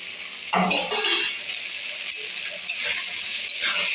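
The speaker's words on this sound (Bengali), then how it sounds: "এবার আমি এটাকে মশলাটাকে একটু মিনিট কষিয়ে নেব" Spice paste sautéing in a pan for a chicken curry, a close sizzling hiss broken by bursts of stirring and scraping, loud and uneven, no voices.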